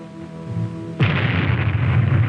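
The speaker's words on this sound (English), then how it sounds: "The moments tick away as we await the bomb and the fireball." A 1954 atomic bomb test explosion at the Nevada Test Site: a quiet stretch gives way to a sudden, loud, sustained blast roar and rumble that fills the rest of the clip.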